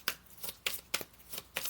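Tarot cards being shuffled by hand, a soft, rhythmic series of quick riffling flicks at steady intervals, faint and close with no talking.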